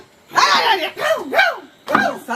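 A human voice imitates a dog's bark with three loud, drawn-out yaps, close up and separated by short pauses.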